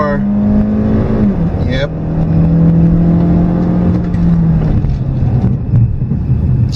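A 2014 Hyundai Elantra Coupe engine revs hard and climbs toward redline, then shifts and keeps pulling, loud and close with wind buffeting the microphone; a voice says a brief word.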